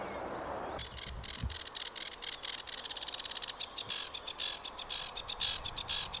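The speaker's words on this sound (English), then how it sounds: "No clear views of this sedge warbler at all yet, but it doesn't mean we won't get it." A sedge warbler sings outdoors in the field, a busy stream of rapid, scratchy chirps and trills repeating steadily for several seconds, fairly close and clear, with no talking.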